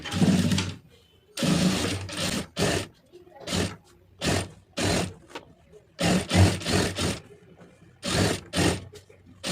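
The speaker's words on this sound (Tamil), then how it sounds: "திருப்பிட்டு கரெக்டாக அந்த ஒட்டில் ஒரு தையல் போட்டுருங்க" Sewing machine stitching the lining seam of a blouse, running in loud close bursts of rapid needle chatter separated by short pauses, roughly a dozen runs of varying length.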